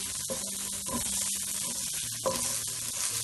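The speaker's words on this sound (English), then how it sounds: "So make sure you're sauteing everything." Mutton pepper fry sautéing in a pan over a moderate flame, a steady close sizzle broken by scraping stir strokes, with no voices.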